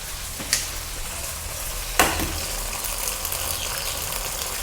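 Sardines frying in a pan for a breakfast stir fry, giving a constant hiss of sizzling oil with a couple of sharp clatters as the food is stirred.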